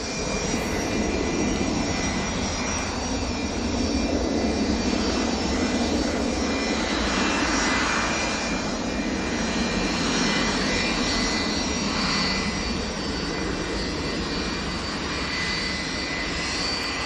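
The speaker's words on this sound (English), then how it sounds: "that 757's taking the slowest taxi I've ever seen to get onto this runway" A Boeing 757 jet taxis slowly toward the runway at Manchester Airport, its engines giving a steady, loud whine and rumble that holds evenly without pause.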